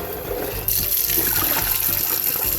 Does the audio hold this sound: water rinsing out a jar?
yes